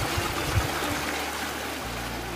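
Water flowing through a rocky stream in red-soil countryside, heard as a steady broadband rush with low rumbling underneath, continuous and fairly near, with no talk.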